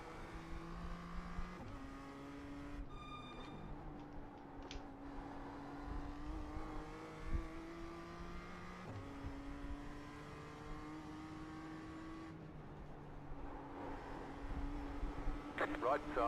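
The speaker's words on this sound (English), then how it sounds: "Faster car coming up quick." Race cars at the Nürburgring 24 hour race, a faster car closing in and passing, engine notes rising and sweeping in pitch, loud and continuous, with in-car voices talking over the roar.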